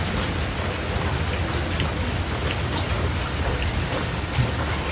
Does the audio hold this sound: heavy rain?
yes